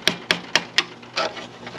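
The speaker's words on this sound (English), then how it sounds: "I'm right against the stud with my Klein hammer." A Klein hammer taps against a wall stud behind garage drywall, four sharp evenly spaced knocks followed by a softer scraping rub.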